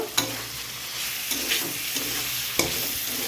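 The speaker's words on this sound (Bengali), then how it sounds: "এবার আমি এটাকে কষাবো। ভালো করে কষিয়ে নেব।" Meat with garlic and ginger paste stir-fried in a pan for kosha, a steady close sizzle broken by a few sharp spatula scrapes and knocks.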